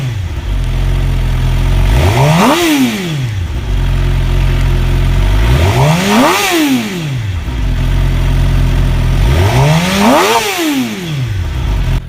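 A 2021 Suzuki GSX-R750 sportbike engine idles roughly, then is blipped three times in even succession, each rev climbing quickly and dropping back to idle, loud and close with no talking.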